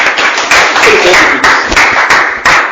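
Church congregation clapping for a brother during a French-language sermon, loud and close, with bursts that surge and fade in uneven waves and some voices mixed in.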